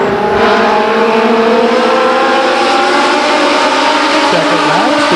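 Legends race cars circling Stockton 99 Speedway, a loud continuous roar of several engines together, steady and close, with a brief rising pitch sweep near the end as one car accelerates.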